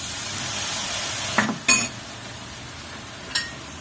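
Japchae noodles tossed with leftover sauce in a pan sizzle softly under a few sharp clinks and scrapes of a utensil against the pan.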